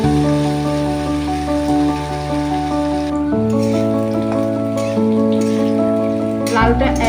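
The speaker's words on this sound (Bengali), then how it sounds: "এবার আলুটাকে আমরা একটু লাল লাল করে ভেজে নেব" Potatoes fry in hot oil until reddish, giving a steady, even sizzle that runs the whole time beneath louder background music.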